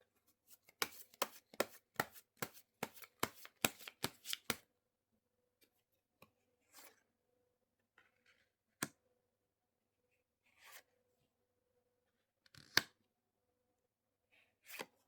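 Tarot cards being shuffled and laid out on a table, first a quick run of crisp snapping riffles, then a few soft, sparse taps and slides as single cards are set down, faint and close.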